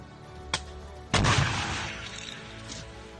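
A sharp launch crack from a Stugna anti-tank guided missile is followed by a loud, rumbling blast that slowly fades, preceded by a smaller pop; fired outdoors at close range.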